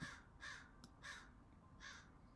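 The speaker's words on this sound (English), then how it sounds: "I feed the crows, and maybe I didn't put food out today." Crows cawing outdoors, four harsh caws spaced at a fairly even rhythm, moderately close and clear over a faint background hum.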